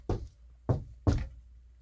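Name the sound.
raccoons knocking in the wall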